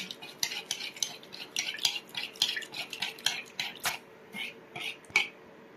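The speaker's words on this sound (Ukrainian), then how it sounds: "Зараз перемішуємо." A spoon stirs salt water briskly in a glass, with quick repeated clinks and swishes close by, fairly quiet throughout.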